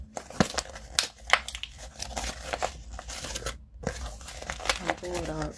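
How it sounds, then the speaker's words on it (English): Sheets of paper crumpled by hand while making journal pages, crackling in bursts over steady talking that runs throughout. "again, you just crumple this up."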